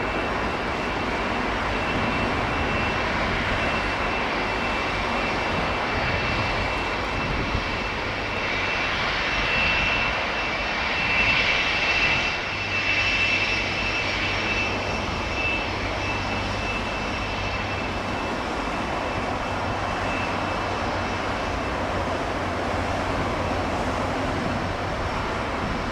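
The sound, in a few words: jet airliner taking off from runway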